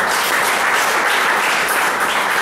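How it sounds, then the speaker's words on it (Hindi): A crowd at an award ceremony claps steadily throughout, a dense, even wash of applause with no gaps and no voices on top. "उसके लिए तालियां बजाते रहे"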